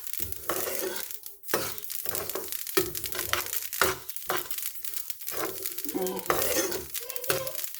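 Spice mix for shiro and berbere stirred in a pan without a wooden spoon, a dense run of dry scraping and rustling strokes in quick irregular rhythm, close and fairly loud.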